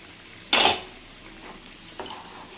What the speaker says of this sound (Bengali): ঢাকনাটা আমি তুলে নিচ্ছি।